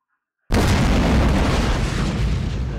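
Explosion in a video game cutscene blows out the windows of a subway train; after half a second of silence a single loud boom erupts and rolls on as a sustained, roaring blast that fades only slightly.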